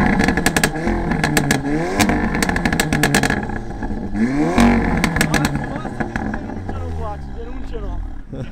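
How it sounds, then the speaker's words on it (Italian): An Audi S3 revving with sharp exhaust pops and bangs, rising engine sweeps punctuated by loud crackling bursts, close by and alone. "sentiamo un attimo che pops and bang spara questa S3"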